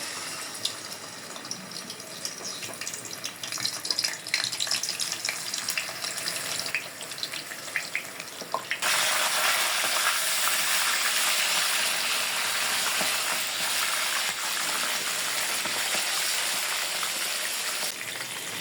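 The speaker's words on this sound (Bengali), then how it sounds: "তেল গরম হয়ে গেছে মাংসগুলো দিয়ে দিলাম" Chicken pieces for a wedding-style chicken roast are dropped into hot oil and sizzle, a quiet hiss that jumps to a loud, steady, dense crackle of frying partway through and continues, with no voices.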